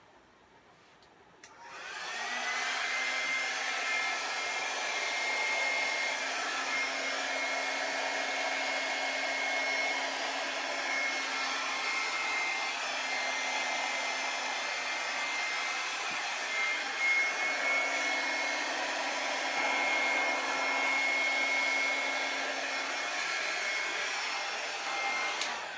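Steady blower or air dryer drying metallic paint, a constant loud whooshing hiss that starts abruptly after a quiet second and runs evenly to the end, alone with no voices.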